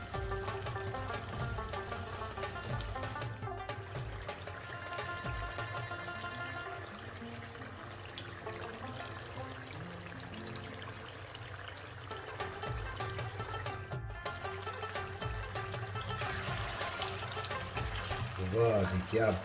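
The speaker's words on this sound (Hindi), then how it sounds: "अब इसको मैं फुल आग पे रखता हूँ कि ये पानी जल्दी से जल्दी सूख जाए।" Mutton karahi cooks in a wok over a full flame in Peshawari street style, its watery gravy bubbling and sizzling steadily as the liquid boils off, with someone talking over the cooking.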